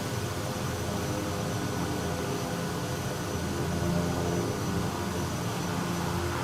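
Aircraft going around in Microsoft Flight Simulator multiplayer, a Kodiak 100 bush plane session in Papua New Guinea; steady, loud engine and wind roar that holds evenly throughout, with no talking.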